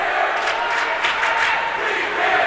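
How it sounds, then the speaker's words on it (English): Loud, sustained cheering and shouting from Guilford Indians fans at a varsity high school hockey game against Hand of Madison, a dense roar of crowd voices filling the rink with little letup. "Indians fans remaining loud."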